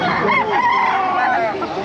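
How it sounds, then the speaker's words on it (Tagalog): Gamefowl chickens clucking and a rooster crowing close by at a pet market, loud and continuous through a brief stretch, with a voice faintly mixed in. "Mama, maraming manok."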